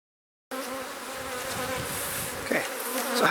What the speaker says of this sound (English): have a look at the bee activity around me